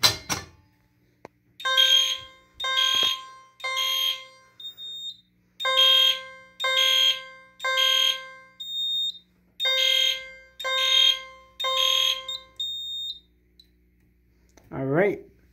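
A fire alarm system re-alarmed from a pull station, its BG-6 station triggering repeated electronic horn-strobe tones in regular pulsed bursts, loud and close, with a short break midway and a brief voice at the very end.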